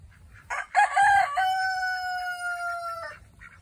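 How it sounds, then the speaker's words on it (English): A rooster crows once, loud and close, a long drawn-out cock-a-doodle-doo with a rising start and sustained ending, with faint outdoor background. "If this is what the chickens want to eat, I guess this is how they're filling their bellies."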